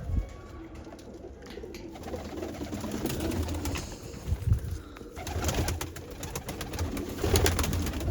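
Soft, throaty cooing from several black pigeons close by, repeating in low rolling phrases amid faint rustles and flutters.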